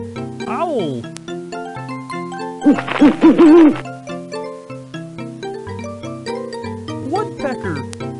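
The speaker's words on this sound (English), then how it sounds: "Owl." A cartoonish owl hoots in the Muppet Babies Animals in Nature PC game from 2003, a short burst of hooting call over a bright, jingly game music loop that plays throughout.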